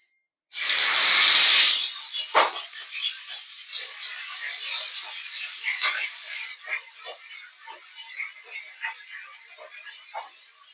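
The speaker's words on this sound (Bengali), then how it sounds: "তেলটা গরম হয়ে গেছে এবার মাছগুলো আমি একে একে ছেড়ে দেব" Prawns dropped into hot oil for a Bengali prawn malai curry give a loud burst of hissing sizzle, then a steady crackling fry with scattered pops and spits, with no talk.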